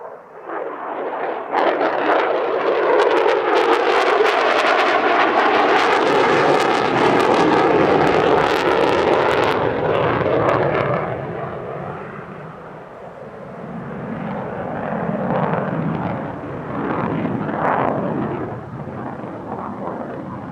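A US Navy F-35C fighter jet flies past at the California International Airshow, its roar swelling quickly to a loud, ragged blast, then receding into a lower rumble that surges and fades again.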